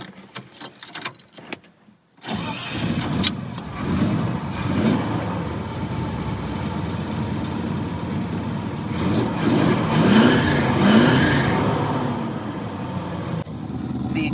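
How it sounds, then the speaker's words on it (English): A Holden HQ turns over and fires up after a short clatter, then settles into a steady, fairly quiet engine note that swells slightly near the end, with no talking. "The exhaust is very quiet."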